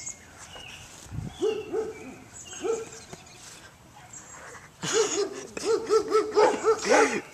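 Dog barks in a video game featuring Homer Simpson and Stewie Griffin, a few harmonic yelps early then a louder run of repeated barks near the end, with game ambience underneath.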